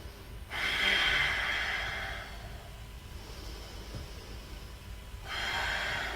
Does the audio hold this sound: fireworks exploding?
no